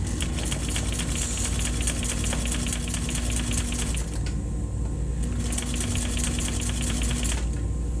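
A sewing machine stitches a box cushion in a fast, steady mechanical rattle, running for about four seconds, stopping briefly, then starting again and running on close and loud, with no talk.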